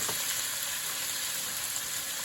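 Garlic and onions sizzle steadily in a hot pan, heat turned down from medium-high, with a constant bright crackling hiss and a faint stir near the start, with no talking.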